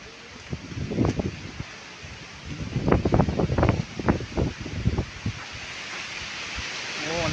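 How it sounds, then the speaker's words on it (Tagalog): Strong wind roars outdoors in a high, windy place, a broad, steady rush that swells and gusts in the middle, with no talk over it. "Yung hangin dito malakas talaga oh."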